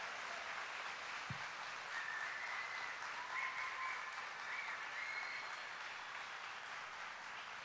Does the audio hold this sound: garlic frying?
no